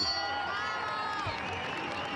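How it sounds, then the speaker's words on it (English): Spectators at a 160 cm show jumping event in Mexico City cheer and applaud. The steady crowd noise sounds distant and fairly faint, with a thin tonal whistle or shout riding above it. "Now listen to the crowd."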